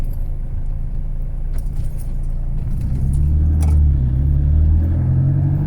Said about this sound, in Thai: ออกตัวเกียร์สอง ได้การเลยครับ